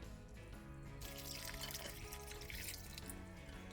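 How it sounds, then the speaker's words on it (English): Water is poured from a can into a pot of chicken chili, giving a continuous liquid splashing and trickling sound that is quiet and close, with no talking. "I may add just a dab of water in this because it is drier than I would like"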